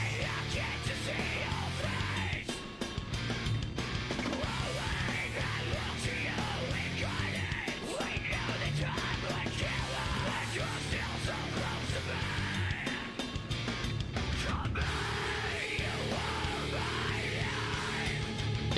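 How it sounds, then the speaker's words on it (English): Screamed vocals from the chorus of a metal song: harsh yelled singing buried in a dense, loud wall of distorted guitars and drums that continues without a break. "The screaming part is the chorus."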